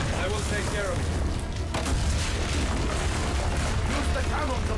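Cannon fire and explosions from the Assassin's Creed Brotherhood video game, heard as a dense, continuous barrage of deep booms and rumbling blasts lasting throughout with no clear gaps.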